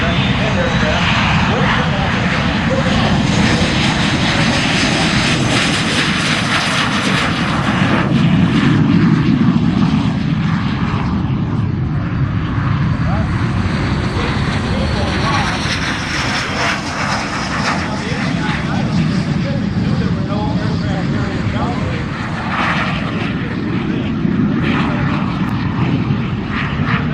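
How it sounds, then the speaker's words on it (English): A gray airplane takes off at the EAA AirVenture Oshkosh 2025 air show, its engine roaring loud and sustained with a swelling, droning rumble, while a commentator talks over it. "That gray airplane taking off, that's the older of the two Carroll Holding aircraft."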